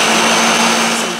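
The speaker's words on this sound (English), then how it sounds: "All right, and so we're gonna turn on our blender." A kitchen blender whirring at full speed as it purees chicken salsa, a loud steady motor roar and grinding churn that runs throughout and eases slightly at the end.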